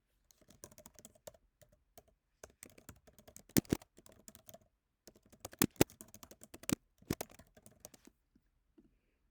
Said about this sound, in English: my typing is ridiculously loud